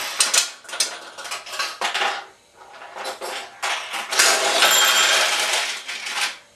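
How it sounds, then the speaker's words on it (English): A Nishijin pachinko machine pays out a jackpot with a bright metallic clatter of steel balls pouring and rattling, arriving in uneven surges that swell into a sustained close-up cascade before trailing off. "we got a jackpot, we saw the lights flash, and got a payout of balls"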